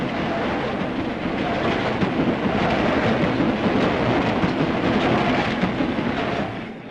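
A 1950s British railway train passing along the tracks nearby, a loud, sustained rumble and roar with rhythmic wheel clatter that fades at the end, with no talk.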